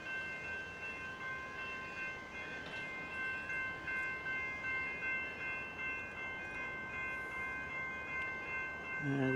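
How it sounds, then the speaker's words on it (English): A suburban train approaches the Highett station level crossing, a steady rumble of wheels and engine building near and loud, with the crossing bells ringing in a continuous high tone over it. "The gates there, train coming, going to the city."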